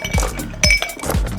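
Ice cubes drop into a glass with three bright, close clinks in quick succession over a soft music bed.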